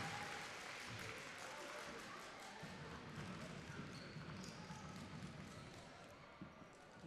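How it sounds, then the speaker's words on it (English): Crowd noise in a gym during an under-18 boys basketball grand final, a steady murmur of spectators with ball bounces and scattered sounds, fading slightly near the end. "crowd making a little bit of noise."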